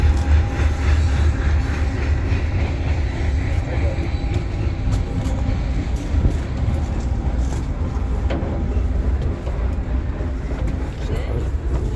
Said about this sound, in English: Oh, it's a short train.